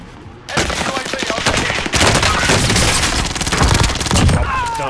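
Gunfire in Call of Duty Warzone bursts in after a brief pause, with loud rapid automatic fire and sharp shots carrying on for several seconds in dense, close volleys.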